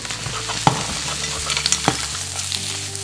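Cleaned mussels and mixed seafood fry in a pan for a seafood risotto, with a steady sizzle broken by a few sharp scrapes and clinks of stirring, close and without talk.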